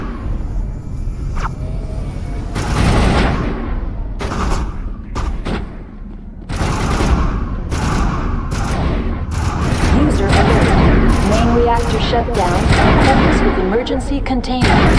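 Gunfire and heavy booms in the video game Mass Effect 1 at Peak 15, repeated bursts and thuds packed close and loud, with short pauses and some game voices mixed in.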